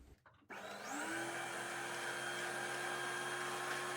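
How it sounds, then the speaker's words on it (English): Sewing machine winding a bobbin: after a brief click, a steady high-pitched motor whine runs continuously and evenly, close and fairly loud. "I'm just gonna wind up the bobbin"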